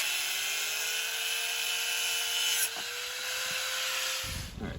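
An angle grinder runs steadily against the rusty steel frame of a GMC truck, a constant high whine near and fairly loud, briefly dipping once before cutting off at the end; no one speaks.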